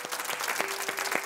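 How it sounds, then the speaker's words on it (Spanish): A Spanish studio audience gives brief applause, a short burst of many hands clapping together at a moderate, even level. "merece un aplauso para mi compañera Ana por ese trabajo"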